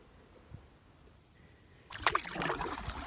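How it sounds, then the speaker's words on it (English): A canoe paddles through water near a backcountry campsite in icy conditions, quiet at first, then paddle strokes splash and gurgle up close in the final second or so, with no talk. "Just paddling down into this little bay to the right of my campsite to take a peek"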